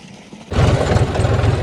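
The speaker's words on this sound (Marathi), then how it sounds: "आता झाली मोटर चालू आहे" An electric well water pump motor kicks on abruptly after a quiet moment and settles into a loud, steady running hum and rattle.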